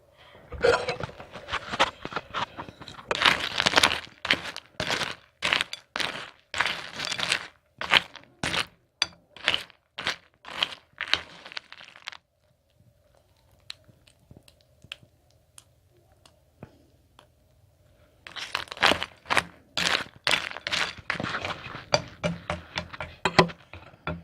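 Crunchy Oreo O's cereal in a little milk is chewed close to the mic, a fast series of crisp cracking crunches. A quiet pause falls midway before the chewing resumes, with no talking.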